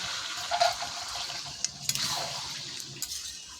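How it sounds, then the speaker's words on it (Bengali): Bowl-rinsing water poured into chicken frying in a pan for a kalbat chicken curry, a short splashing pour followed by hissing and bubbling, close and alone. "এই গামলা ধোয়া জলটা দিয়ে দেবো"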